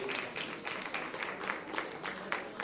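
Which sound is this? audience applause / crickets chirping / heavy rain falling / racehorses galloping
audience applause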